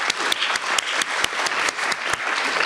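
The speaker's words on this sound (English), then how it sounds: "So let's have a round of applause for our wonderful honored guest." An audience at a smart growth summit panel claps for an honored guest, a dense, steady round of applause with a few sharper claps standing out, heard alone and fairly close.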